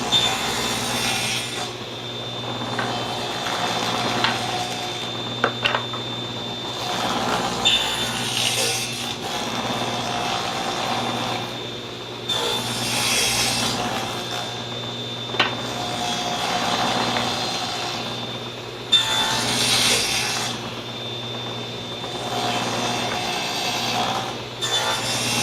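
A table saw with the blade set 3/8 inch high cuts wood for a beehive inner cover, a steady motor hum broken by several repeated loud cutting passes, each rising and fading, with no voices.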